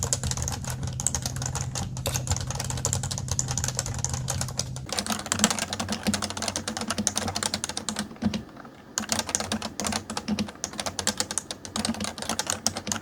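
Rapid typing on a Realforce Topre keyboard, with soft, muffled keystrokes, goes on continuously at close range, with a short pause partway through.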